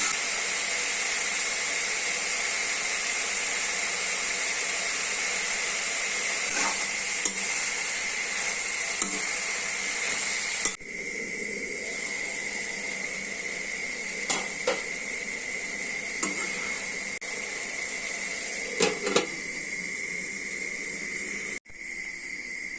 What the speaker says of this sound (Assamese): এয়া এফালে ভাত বহাই দিছোঁ আৰু এয়া এফালে ভাজি তৰকাৰী